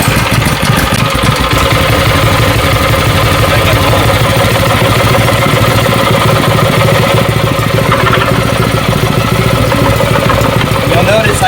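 A Predator 670cc engine on a go kart runs loud and close, a steady dense mechanical drone with rapid pulsing and clatter throughout, while a person talks over it.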